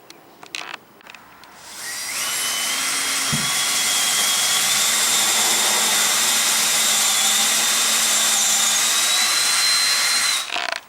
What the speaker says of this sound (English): I'm using a drill bit with a hex bottom